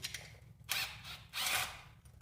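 A socket wrench ratchets on a bolt of a Tecumseh H50 small engine during a teardown. It gives two close, loud bursts of clicking with a short pause between them, and no talking.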